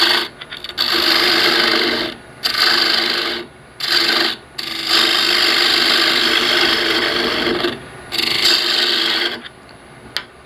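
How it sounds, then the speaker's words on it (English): A small carbide tool cuts into the centre of a wooden piece with a rasping, buzzing scrape that comes in long bursts and stops several times in between. "we're going to take a little bit of this center out here. We're going to try and use this little carbide tool here."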